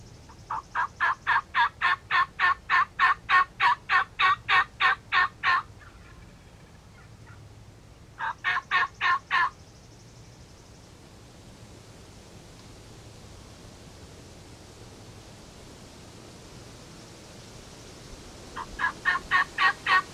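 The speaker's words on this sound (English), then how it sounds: "Big gobbler's in the back. You hear me?" Wild turkey gobbling in fast rattling bursts near a cornfield, several rounds separated by pauses, heard outdoors over a steady rushing background noise.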